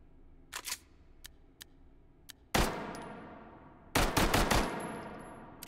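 Phantom 9 gun with a 50-round drum magazine firing in the VR game Hot Dogs, Horseshoes & Hand Grenades: a few sharp single shots, then two loud rapid bursts of automatic fire, close and clear.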